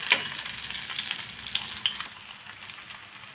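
Semolina balls fry in hot oil, a steady close crackling sizzle with a few small pops and faint movement as they are turned over, no voices.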